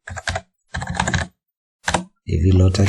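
Computer keyboard typing in short bursts of quick clicks, separated by pauses, near and fairly loud, ending with a stretch that sounds busier.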